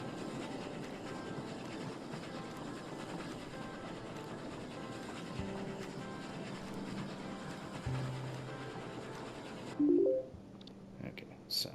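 Train from the video game Oddsparks, fueled with explosives, rumbling and clacking steadily as it runs, then cutting off near the end with a few short game tones and chimes.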